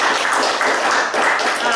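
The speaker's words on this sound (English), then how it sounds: "Give volunteer number 2 a round of applause." A live audience claps for a stage volunteer, a brief steady burst of fairly loud applause that fills the whole moment.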